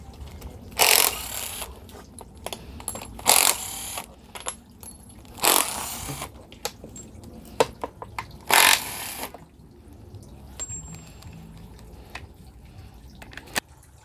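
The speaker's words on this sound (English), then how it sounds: "Now let's remove the bolts and nuts." A ratchet and wrench loosen a mix of bolts and nuts holding down a stuck valve cover, sounding as several separate bursts of clicking with metallic clinks between them.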